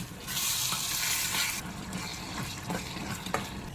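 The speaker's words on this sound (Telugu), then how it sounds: "ఒక్కసారి కలిపేసుకోండి." A spoon stirring cranberry pickle mixed with salt and oil in a pan, wet scraping and sloshing with a hissy burst early on, then softer clicks and smears of stirring, close and unaccompanied by talk.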